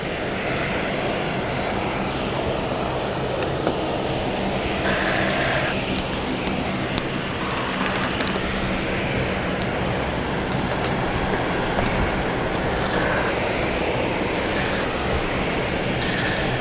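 Jet airliner taking off at London City Airport, a loud, steady engine roar that fills the whole stretch without a break, heard from fairly close by.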